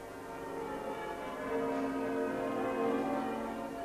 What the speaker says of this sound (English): by ringing the bells